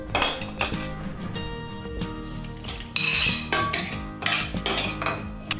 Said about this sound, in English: in the same kadai add the boiled pasta